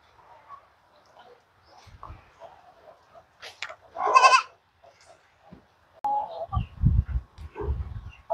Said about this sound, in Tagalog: Umiinom yung ating mga kambing dahil mainit.